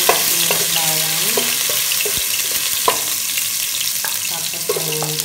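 Garlic fries in a pan for pancit canton with a continuous loud sizzle, while a utensil scrapes and stirs through it now and then.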